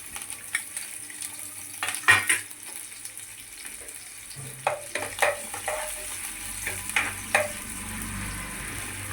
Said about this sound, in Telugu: ఇప్పుడు ఇంకో ప్యాన్ పెట్టుకొని ఇందులో కొద్దిగా ఆయిల్ వేసుకొని ఉల్లిపాయలు గోలించుకుందాం.